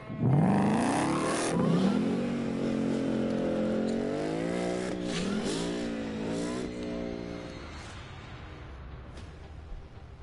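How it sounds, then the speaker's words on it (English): V8 engines in American muscle cars rev hard through several rising pulls, loud and close, then settle into a steady throaty rumble that slowly fades, with no talking. "It was built by the rumble of a V8, and it should rumble to that sound"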